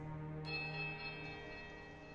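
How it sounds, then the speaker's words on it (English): The smaller left bell in the fantasy role-playing game Pillars of Eternity rings as a sustained, resonant metallic tone with many layered harmonics, a bright upper shimmer entering just after the strike and the whole peal holding steadily. "Let's try the left smaller bell."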